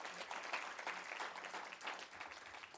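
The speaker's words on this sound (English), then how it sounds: "Let's please give him another round of applause." Audience applause after a talk at an agricultural lecture series in Windhoek, a steady, dense round of clapping from a seated crowd at moderate distance, continuous throughout with slight swells and no speech.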